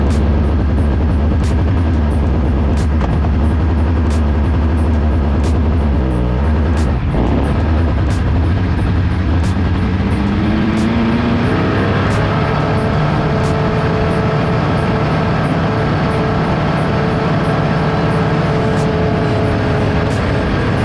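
Formula SAE race car engine driving on a test track, a loud steady drone with pitch shifts as it changes speed, close and continuous throughout.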